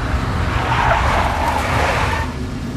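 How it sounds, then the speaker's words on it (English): A big black Mercedes skids in a Max Payne game scene, a loud steady tire squeal with car engine noise running throughout, alone with no voices. "A big black Mercedes."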